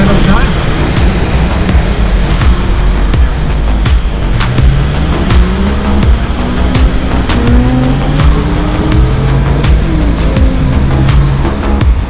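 Supercars cruising on the road during Monterey Car Week, including a Lamborghini Aventador, give steady engine rumble and passing-car noise throughout, with people talking over it.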